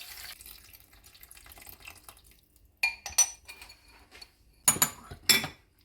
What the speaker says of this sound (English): And then, lastly, add your tamarind water.